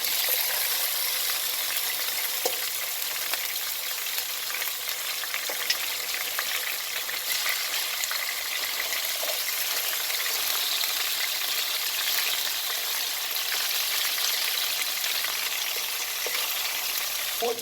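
Oxtail browns in a pot with a steady, even sizzle and crackle, soft and continuous with occasional faint clicks, no voices.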